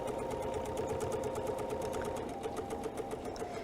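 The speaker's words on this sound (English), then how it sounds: "we can easily feed something in right now and continue sewing" A sewing machine stitches fold-and-flip triangles for a quilt block, running at a steady fast rhythmic hum with even needle clatter throughout, close and continuous with no talking.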